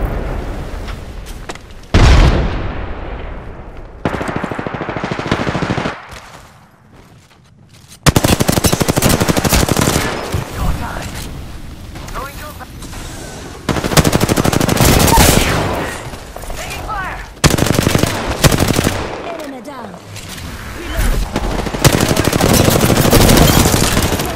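Gunfire rattles through an Apex Legends battle royale match, with loud sustained automatic bursts, single shots and explosions in repeated blocks, separated by brief quieter gaps.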